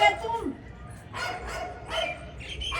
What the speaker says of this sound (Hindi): कुत्ता भौंक रहा है बहुत ज्यादा।